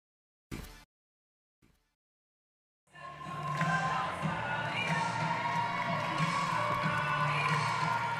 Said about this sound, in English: Crowd all fired up here as we're tied at 19.